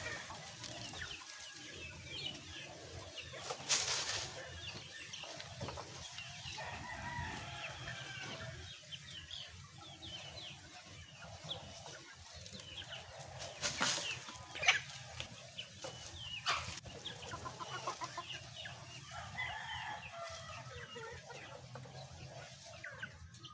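Chickens cluck and murmur softly at a distance over a steady background hum, with a few sharper bursts of noise scattered through.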